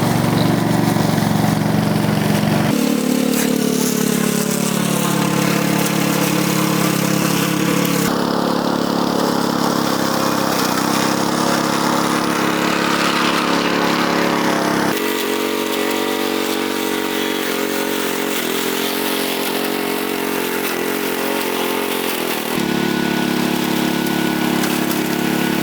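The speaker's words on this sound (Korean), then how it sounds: "이 트랙 달린 기계로 저 사람 키보다 높은 풀을 한번 작업해 보겠습니다" A remote-controlled 7hp tracked robot mower cuts through grass taller than a person, its engine droning steadily and loudly at close range, the pitch dipping and rising as it pushes into the growth, with no talk.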